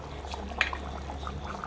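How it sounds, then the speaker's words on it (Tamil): Mutton curry bubbles in a pot on the stove, a soft continuous simmer with small pops and gurgles, close but quiet. "இப்போ குழம்பு நல்லா கொதிச்சிட்ருக்கு"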